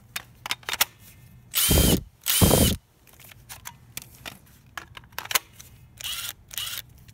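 A Makita power tool, an impact driver or hammer drill, spins up in two loud, close bursts of about half a second each, each stopping abruptly, then two fainter bursts follow later amid light clicks and handling noises, with no talking.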